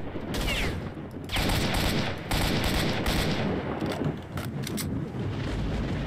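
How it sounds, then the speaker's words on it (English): Bursts of gunfire from the video game S.T.A.L.K.E.R.: Shadow of Chernobyl, loud, dense rattling volleys that come and go over several seconds, with no talking. "Got shot by someone over here."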